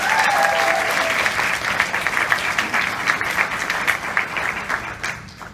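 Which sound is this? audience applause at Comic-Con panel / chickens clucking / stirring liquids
audience applause at Comic-Con panel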